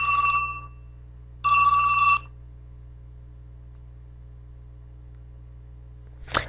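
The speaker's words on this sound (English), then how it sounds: "my phone's ringing" A mobile phone rings with two loud electronic tone bursts over a steady mains hum, followed by a quiet stretch and a short chirp at the end.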